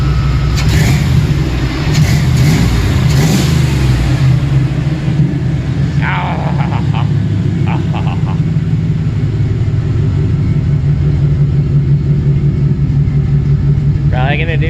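An LT1 V8 in a 1992 Chevy 1500 truck, running untuned with the check engine light on, rumbles loudly and steadily up close with a deep idle pulse and small swells, while a voice talks intermittently over it.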